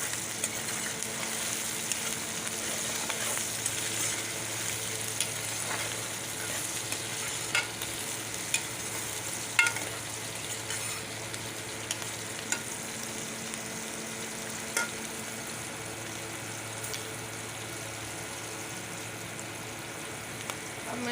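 Five or six green chillies stir-fry in a pan for keema karela, a steady close hiss of sizzling oil punctuated by regular spatula scrapes and clicks, with no talking.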